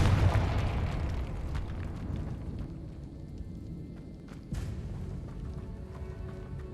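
A Confringo fire spell in Hogwarts Legacy bursts with a deep rumbling explosion right at the start, then decays into a crackling, debris-filled tail, with a second smaller burst partway through.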